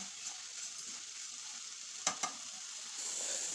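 Carrots fry in a pan with a soft steady sizzle, broken by a couple of scraping stirs of a spoon against the pan partway through.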